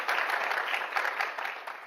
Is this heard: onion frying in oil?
no